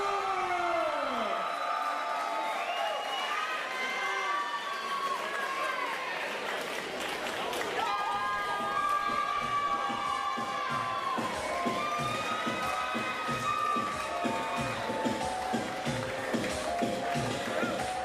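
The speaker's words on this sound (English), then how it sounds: "Let's have a big round of applause for your fan favorite, Jennifer Brewer" A fight-night arena crowd at a PFL event roars with sustained cheering and applause for a fan-favorite fighter, a dense wall of voices and shouts filling the space continuously throughout.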